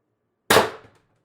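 A single sharp air gun shot firing a steel ball bearing, a crisp crack that decays quickly into near silence, heard alone and up close.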